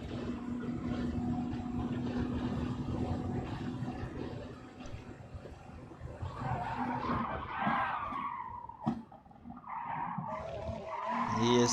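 Audi R16 RSR LMP1 prototype racing at Le Mans in an endurance sim-racing game, with a loud sustained engine roar and tire skidding through a corner, shifting pitch as it accelerates away.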